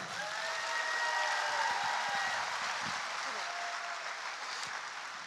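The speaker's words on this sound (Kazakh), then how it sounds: "Қарлығаш Биғазы қызы бүгін бірінші рет сахнада еді, сондықтан да ду қол шапалақ" An audience applauds a singer making her first stage appearance at a talent show, a broad, steady wash of clapping that swells and holds, with a sustained musical tone lingering faintly underneath.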